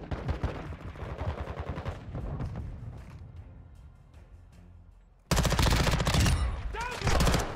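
Gunfire in the video game Modern Warfare 2 during a hardpoint match: dense, rapid bursts of shots and impacts roll on steadily, thin out briefly, then a loud close barrage erupts near the end.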